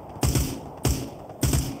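Enemy gunfire in the VR shooter Onward: three evenly spaced, punchy close shots, each a sharp crack with a thudding low tail, over steady background noise.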